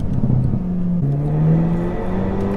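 A Renault Megane 4 RS stage 1 re-accelerates, its engine note rising and dipping in pitch through gear changes, loud and close from inside the car with road whir beneath.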